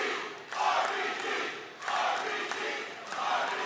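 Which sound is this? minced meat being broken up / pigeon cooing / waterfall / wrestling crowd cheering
wrestling crowd cheering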